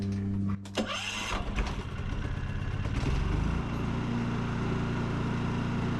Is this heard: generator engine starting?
yes